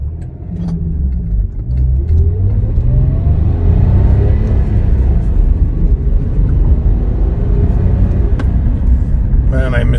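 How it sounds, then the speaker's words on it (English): Engine of a rare Infiniti I30 T with a manual gearbox, driven on the road: a steady low rumble and drone that rises slightly as it pulls, with some speech mixed in over the engine noise. "Man, I miss driving this thing."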